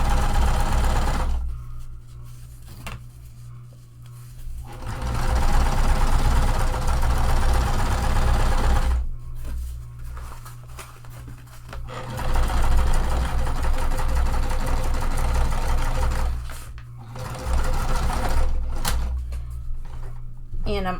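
A sewing machine runs bursts of stitching along a tote bag seam, its low motor hum and rapid needle chatter starting and stopping in three or four long runs close by, with no talk over it.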